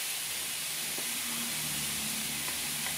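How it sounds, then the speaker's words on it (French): A hot frying pan sizzles and crackles, ready for meatballs to go in, a faint, steady hiss with no talk over it. "ici c'est bien chaud, ça crépite"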